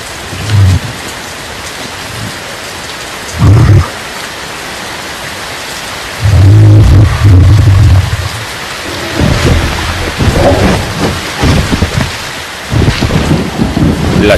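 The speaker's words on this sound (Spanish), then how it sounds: "Las semanas se convierten en meses de lluvia." Heavy rain pours down in the African wild, a dense, loud, steady hiss with deep thunder rumbles surging in at intervals, all without any talk.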